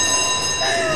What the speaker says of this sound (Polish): Ja ogłaszam w tym momencie alarm.